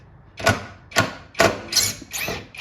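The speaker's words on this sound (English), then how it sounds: "I think using this impact might be the best idea. Push down on it real hard, break this rusty" An impact driver breaks rusty screws loose from a Paperboy arcade cabinet's control panel, giving five sharp mechanical rattling bursts about half a second apart, close and fairly loud.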